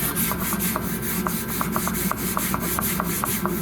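Steady rhythmic rasping of hand sanding on body filler over a custom cowl hood for a 1983 Chevy G20 van, close and even with regular strokes repeating about three or four times a second, no talk.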